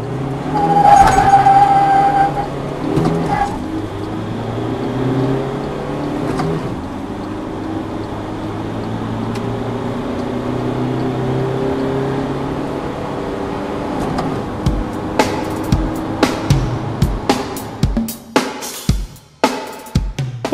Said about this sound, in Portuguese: Acompanhe a aceleração de 0 a 100 km por hora de cada picape.